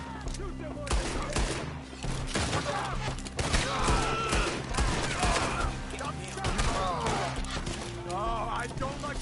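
Shootout gunfire in the video game Red Dead Redemption 2, bursts of rapid shots and fusillades cracking in repeated clusters while characters shout over the battle.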